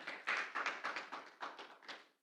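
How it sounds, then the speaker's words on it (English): A small audience claps after a call for a round of applause at a talk. The applause comes as a short run of distinct, fairly quiet claps that fade out after about two seconds. "Let's give him a round of applause"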